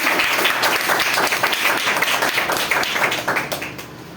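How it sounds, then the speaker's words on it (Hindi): An audience at a school award ceremony applauds teachers with dense, loud clapping that fills the space, then tapers off slightly toward the end. "तो मैं इन सभी के लिए एक बार जोरदार तालियां के साथ करेंगे।"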